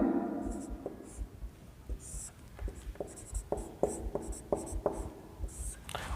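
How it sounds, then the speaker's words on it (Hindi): A pen or chalk writes by hand with a run of short, close scratchy strokes in an irregular rhythm, some tapping and some scraping. A few faint voice sounds come in near the start. "इधर मैं लिख दे रहा हूं"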